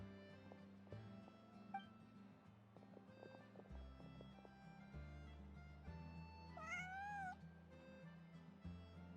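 Cats in a video game give a faint meow partway through, with a louder, drawn-out rising-falling meow near the end, set under steady game music and low background sounds.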